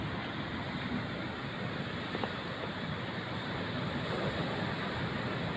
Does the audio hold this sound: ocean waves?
yes